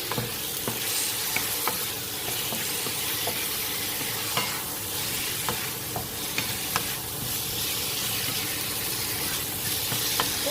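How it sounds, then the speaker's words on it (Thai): Shrimp stir-frying in hot oil in a large pan, a steady close sizzle with repeated scraping and stirring clicks of the utensil throughout, no voices. "จานใหญ่เลยเราจะผัดนานนะเพื่อนแล้วใส่ผัก"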